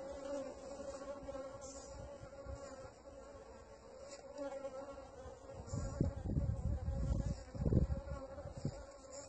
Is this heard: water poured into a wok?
no